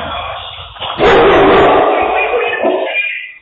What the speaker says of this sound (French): French Bulldog came out.